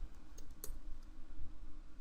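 Typing on a computer keyboard while entering a form heading, a few quick, light key clicks over quiet background hum.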